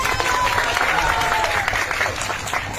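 Sustained applause from a gathered crowd at a Durga Puja pandal, dense and steady clapping throughout with a faint tonal hum drifting in the background.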